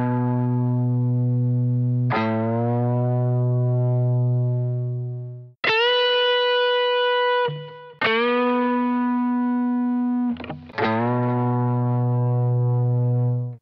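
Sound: electric guitar string bends on sixth string

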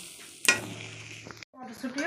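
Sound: peas being lightly fried and stirred in a pan

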